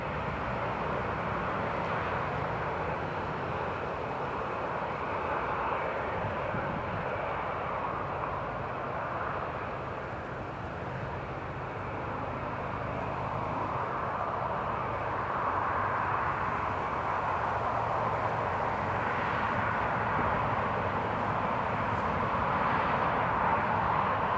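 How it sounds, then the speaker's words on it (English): An EasyJet Airbus A319 taxiing to the holding point at Newcastle International Airport, its engines giving a steady, broad roar that swells slightly and holds for the whole stretch. "It's the EasyJet A319, taxiing to the holding point."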